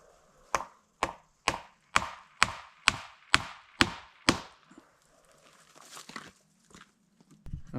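A Beavercraft axe strikes wood in eight sharp, evenly paced chops, close and loud, followed by quieter rustling and handling of wood.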